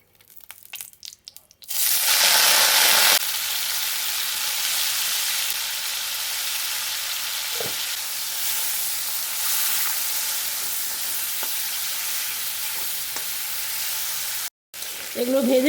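Prawns and small bottle gourd pieces drop into hot oil, bursting into a loud, close, continuous sizzle that holds steady, with a few stirring scrapes and clacks and a brief break near the end.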